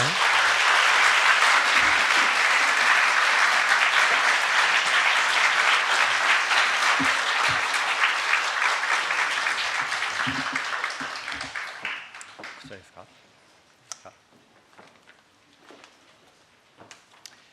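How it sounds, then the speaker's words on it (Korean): A Korean church congregation at Sunday worship claps loudly in a thick, sustained roar of applause to welcome a preacher, which fades out abruptly around twelve seconds, leaving a few scattered claps and quiet room sound. "자, 우리 박수로 환영하겠습니다"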